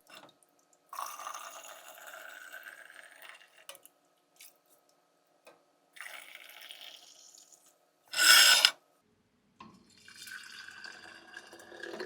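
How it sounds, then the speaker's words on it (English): Apple cider drips and trickles from a measuring cup into a big stovetop pot during home canning, heard as intermittent liquid pours and splashes with one brief loud spatter among quiet pauses. "You can see I'm dripping down the side of my big pot here."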